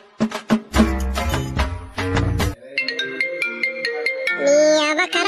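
A mobile phone ringtone plays a loud, bright electronic melody of punchy chords followed by quicker lighter notes, heard alone and close.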